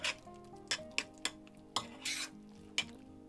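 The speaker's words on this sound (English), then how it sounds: "Stir this up." A spoon stirs mango chutney, curry powder and mayonnaise in a bowl, giving faint, wet scraping swishes broken by a few sharp clinks against the bowl's side.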